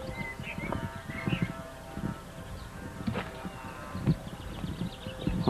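Birds chirp and call outdoors among faint rustling and scattered soft knocks, short calls repeating at a distance with no speech.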